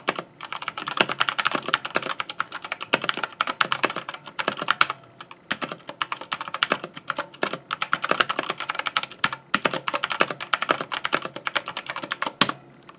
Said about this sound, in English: how it feels and how it sounds when you type on it